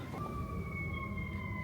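Emergency sirens wail from a Chicago street below a hotel near the Chicago River, a faint, distant, steady tone heard from indoors over low traffic rumble.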